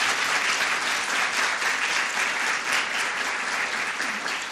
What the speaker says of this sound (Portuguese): Gostaria de uma salva de palmas, por favor,